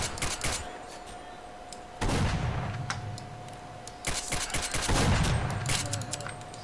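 Gunfire in the video game S.T.A.L.K.E.R.: Clear Sky, with sharp, rapid shots and several heavier bursts over steady background game ambience, fairly loud throughout.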